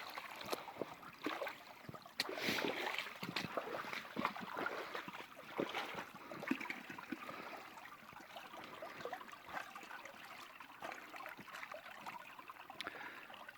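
A creek in Sivas, Turkey, flows over sand and stones, giving a faint, continuous babble and trickle with small splashy bursts and no voices.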